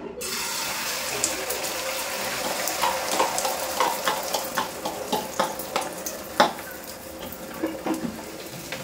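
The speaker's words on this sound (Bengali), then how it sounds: "এই যে ঝিঙে দিয়ে ডাল সেদ্ধ হচ্ছে" Lentils with ridge gourd cook in a pot, giving a continuous bubbling, hissing simmer with scattered clinks and taps of a utensil, close and steady throughout.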